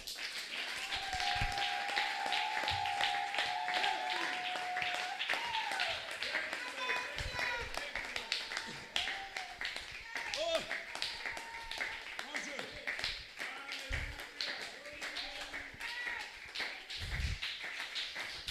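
Congregation at a church service clapping in acclaim to the Lord, a steady mass of rhythmic claps and taps running throughout, blended with loud voices and sung or called-out lines.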